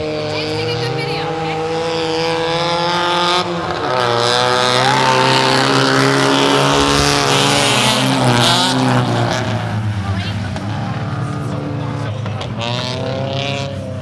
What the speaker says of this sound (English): we're going to hear some speed from these cars heading around